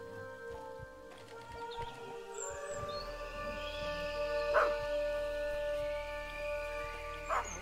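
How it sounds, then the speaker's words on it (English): Dog barking in the horror video game Maid of Sker, heard against sustained tonal game music with a few short sharp yelps rising over the score. "No, dog, where are you going?"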